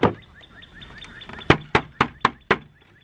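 Knuckles rap a cheap, thin, almost paper-like garden item, a string of five evenly spaced hollow knocks after a few softer taps, close and crisp.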